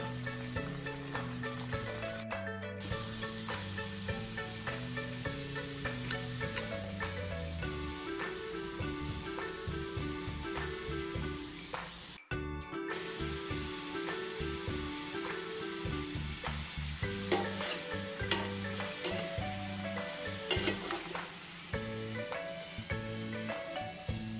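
A batch of potato snack frying in oil, a continuous sizzle heard under steady background music with a couple of short gaps.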